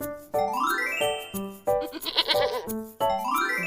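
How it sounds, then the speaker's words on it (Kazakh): A goat bleats several times, each call loud, close and wavering, separated by short pauses, with no voices present. "Дұрыс, балалар, бұл жануар ешкі деп аталады."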